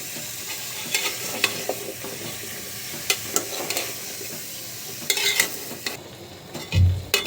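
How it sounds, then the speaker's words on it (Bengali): Papaya pieces tossed into hot oil for a rohu fish and papaya curry sizzle steadily while a spatula scrapes and stirs in irregular strokes, with a heavier clatter near the end. "পেঁপে দিয়ে দিলাম, নেড়ে ছেড়ে এখন মিক্স করে নেব।"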